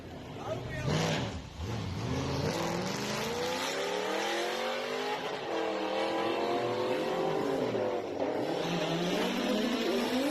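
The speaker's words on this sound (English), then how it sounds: "looks like the sound is coming from your car" A Camaro engine revs and roars, pitch climbing and falling in sweeping waves, loud and close with a short surge near the start.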